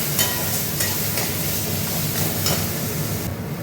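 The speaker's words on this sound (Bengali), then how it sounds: "এই দেখুন, একবার মশলাগুলোকে সব ভাজছি।" Spices sizzle in oil in a pan for a Bengali katla fish head and rice dish, a loud, continuous close-up frying hiss with periodic scraping bursts from stirring.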